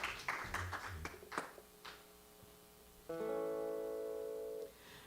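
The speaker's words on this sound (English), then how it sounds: "Let's give Rev.Frances another applause." A few scattered hand claps from a small audience at a talk, fading quickly, followed by a sustained keyboard or organ chord ringing alone.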